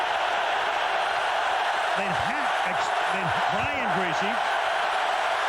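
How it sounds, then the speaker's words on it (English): Dense, roaring crowd noise fills a football stadium during a 2000 NFL Monday night game between the Denver Broncos and St. Louis Rams, a loud continuous wash under a commentator's voice. "This crowd in full voice now as Bob Greasy is under center."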